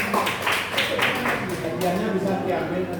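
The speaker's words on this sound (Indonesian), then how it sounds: "Tepuk tangan." Several sharp rhythmic claps from a small group in a school teacher training session, close and bright, followed by voices talking over quieter background.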